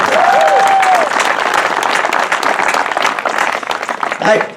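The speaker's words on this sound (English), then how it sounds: "So give Jim a big round of applause for taking out the Ways and Means vice chair." A political crowd bursts into loud, sustained applause, with dense clapping and a few cheers filling the room under a whistle-like tone.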